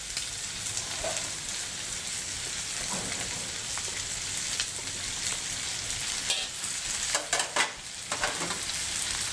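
Onion fries in a pan with sausage for feijão tropeiro, giving a steady, dense sizzle with stirring scrapes and a few sharper crackles toward the end, moderately quiet and with no talk.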